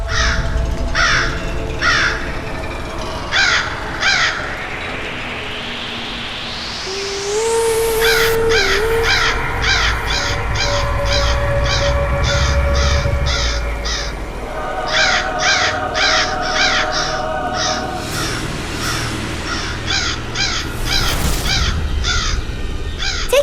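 A crow caws repeatedly in loud, clustered bursts of harsh calls, with a rising whoosh and other tonal sounds in between; no talking.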